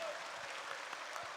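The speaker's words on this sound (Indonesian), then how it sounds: "Beri tepuk tangan yang meriah kepada beliau." Audience applause at a teachers' association anniversary ceremony, a dense, steady wash of clapping from a large crowd, fairly faint and continuous for a brief moment.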